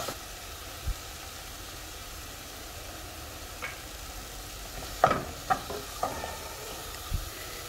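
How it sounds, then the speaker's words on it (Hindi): Spice masala fries in a pan with kasuri methi, giving a faint, steady sizzle while a few soft scrapes and taps of stirring come through. "तो बस सारा मसाले को मिक्स कर देंगे,"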